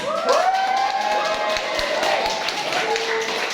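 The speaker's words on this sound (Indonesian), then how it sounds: "tepuk tangan" Audience clapping and cheering after a contest winner is announced, with scattered claps, shouts and overlapping voices and a tonal, whistle-like sound running through it.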